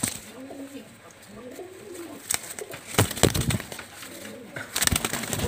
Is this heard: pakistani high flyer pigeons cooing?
yes